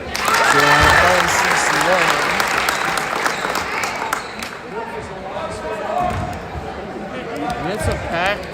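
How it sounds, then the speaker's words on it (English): A packed crowd applauds and cheers at a girls' high school basketball game between Mount Ararat and Hamden Academy, a loud, continuous roar of clapping that eases slightly midway and stays steady behind the action. "it's a packed crowd here for Mount Ararat"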